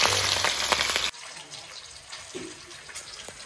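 Local fish fry loudly in hot oil with a dense crackling sizzle for about a second, then the sound cuts abruptly to a much quieter, faint background.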